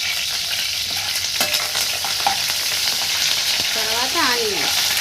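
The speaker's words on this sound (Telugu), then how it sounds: "ఫస్ట్ పచ్చిమిర్చి వేస్తున్నాను ఫ్రెండ్స్." Green chillies hit hot oil in a pan and set off a loud, steady sizzle and crackle, with a few clinks and stirring scrapes over it and no talking.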